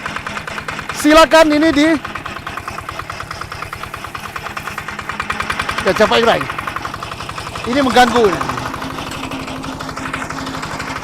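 A locally built diesel farm tractor engine, started by hand crank, runs with a steady throbbing chug, rising in a few revving surges, while people talk over it.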